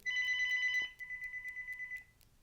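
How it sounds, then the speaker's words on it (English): A VTech CS6214-11 cordless phone rings with an electronic tone: a sustained trilling burst, then a softer pulsing warble, clear and close in a quiet room. "That one have the same ringtone"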